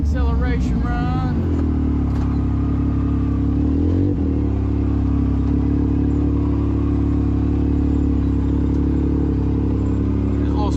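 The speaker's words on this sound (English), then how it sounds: "Do a little acceleration run." A 2016-2018 Yamaha YXZ1000R side-by-side accelerates on an east coast trail, its engine climbing from a revving start into a sustained loud drone close by, with some rattling clatter and brief speech near the start.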